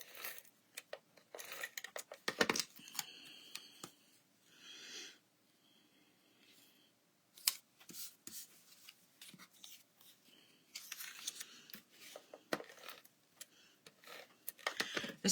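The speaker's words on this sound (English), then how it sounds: "we're going to do all of the scoring at the same time, because all of the pieces of the Calypso coral need to be scored" Scoring white cardstock pieces for a pop-up block fold card, a series of quiet scraping and ticking strokes in uneven bursts with short pauses, close and faint.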